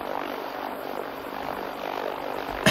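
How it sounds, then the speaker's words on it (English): Steady whirring rotor drone, a synthetic video game helicopter hum holding constant throughout, ending in a short click. "We've got rotors moving."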